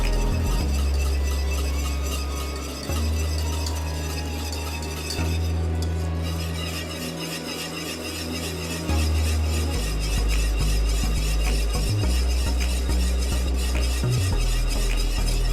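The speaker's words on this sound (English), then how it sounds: "I'm now going to continue mixing." No-bake mac and cheese being mixed in a pot, soft stirring and occasional utensil clinks under a loud, steady low hum, continuous and close for the whole stretch.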